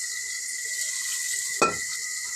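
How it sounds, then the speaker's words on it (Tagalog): Vegetables washed under running tap water, a steady close hiss of flowing water with one brief splash or knock partway through. "Ato na nihawas na lang gulay"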